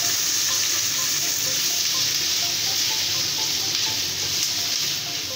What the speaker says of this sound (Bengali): পেঁয়াজটা আমি তেলে দিয়ে দেবো।